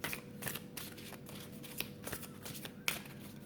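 Oracle cards are shuffled by hand during a tarot-style reading, giving soft papery riffles and brisk flicks in repeated bursts, close and fairly quiet, with no talking.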